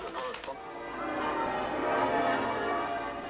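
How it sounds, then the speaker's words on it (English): Church bells of York Minster ringing continuously with a wash of overlapping peals, steady and fairly loud, with a brief clatter at the start. "The bells of York Minster were among many that rang forth throughout Britain."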